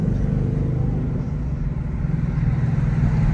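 A 2021 Ford Mustang GT with its stock exhaust pulls hard, a loud, steady low engine rumble droning close and continuous throughout.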